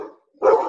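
A dog lets out one loud, close bark after a faint, brief whine, with nothing else around it.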